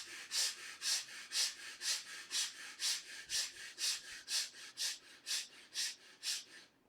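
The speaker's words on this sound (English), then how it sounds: "start breathing quick and fast from the chest" Rapid, forceful chest breathing during a meditation exercise, about fourteen even breaths in a steady rhythm, close and fairly soft with no talking.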